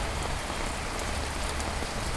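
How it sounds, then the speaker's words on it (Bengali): Dense, steady downpour of heavy rain pattering loudly on surfaces along flooded Hooghly Station Road, continuous and close with no voices. "একদম ঝমঝম ঝমঝম করে বৃষ্টি পড়ছে"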